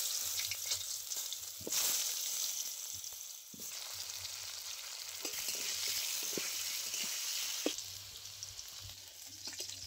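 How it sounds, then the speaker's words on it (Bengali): Potatoes fry in mustard oil that was just used for fish, giving a loud, continuous hissing sizzle over roughly ten seconds. Occasional utensil taps and stirring noises come through, and no voices are heard. "একই তেলের মধ্যে আমি কিছু আলু ভেজে নেব।"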